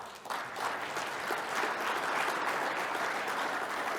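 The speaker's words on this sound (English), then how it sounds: "Maybe a round of applause here." A round of applause from the audience at an agriculture address by a New York commissioner, starting quickly and holding as a steady, fairly distant wash of clapping.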